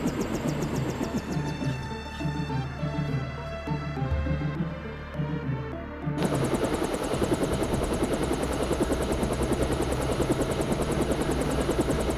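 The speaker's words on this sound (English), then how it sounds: "Time to see if this stealth copter is worth all the fuss." A stealth helicopter in Deus Ex, a steady rapid rotor chop and engine drone under background music, growing denser and louder after the midpoint.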